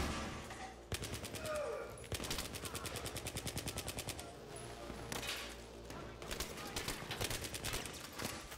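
Automatic gunfire rattles in a co-op mission of the video game Battlefield 3, with long, rapid bursts of machine-gun shots separated by brief pauses, loud and close.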